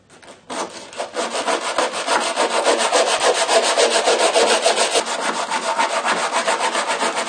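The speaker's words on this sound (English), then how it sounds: "Fiberglass is set now, or epoxy, whatever you like to call it. I'm just going to sand it down a bit." Set fiberglass epoxy on a boat's deck seal being sanded by hand, a rapid back-and-forth rasping scrape in quick, regular strokes, close and loud, starting after a brief quiet moment and continuing steadily with no speech.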